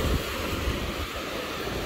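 Steady ocean surf rushes onto a beach after a storm, a dense, continuous wash mixed with wind buffeting the microphone and no voices.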